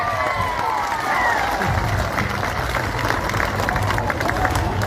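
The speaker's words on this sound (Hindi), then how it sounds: "ताली बजाए रैली के लिए।" A large crowd at an election campaign rally in Dibrugarh, Assam, claps and cheers in a dense, steady roar that stays loud and unbroken throughout, with voices mixed in.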